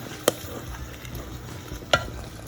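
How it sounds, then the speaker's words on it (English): A wooden spoon stirs cranberry sauce in a pot, giving two sharp knocks against the pot, well apart, over a quiet, faint background hiss. "keep stirring until you bring this to a simmer"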